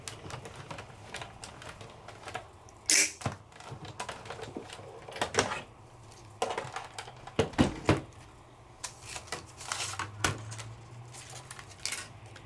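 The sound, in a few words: Sizzix die-cutting machine feeding paper through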